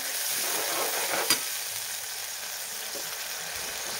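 Soybean masala curry sautéing in a pan with turmeric and salt, a steady close sizzle and fry with a single sharp clink of a utensil partway through.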